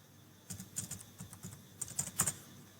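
Quiet keystrokes as a password is typed on a computer keyboard, a short run of light, uneven clicks at close range in a still room.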